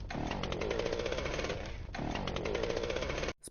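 A chainsaw runs steadily and loud up close, a harsh continuous buzzing roar with a brief dip near the middle before it cuts off abruptly at the end, with no talk.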